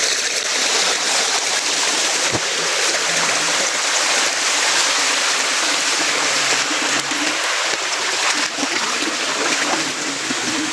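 A waterfall and stream rushing nearby in a forest, a loud, dense, continuous roar of flowing water that stays steady throughout with no talk over it.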